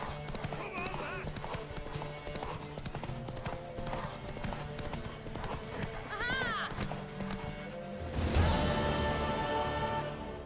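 Horse hooves clip-clopping at a gallop in The Witcher 3, a rhythmic, continuous beat with a whinny midway and a crash near the end, under game music and voices.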